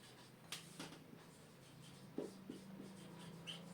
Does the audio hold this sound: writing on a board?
yes